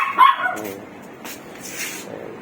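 A small dog barks once sharply at close range, followed by softer yips and whimpers. Corgis, a French bulldog and a Pomeranian are kept in the same household.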